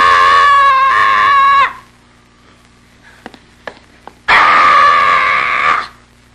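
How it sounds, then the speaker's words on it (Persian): A woman screams in two long, loud, sustained bursts separated by a pause with a few soft knocks or footsteps, in a dramatic scene from a 1975 Iranian film. "چرا اینقدر جیغ میزنی زن؟"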